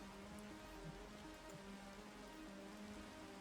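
Rain in the Minecraft video game makes a steady, even hiss of drops falling on surfaces, quiet and unbroken, with no voices.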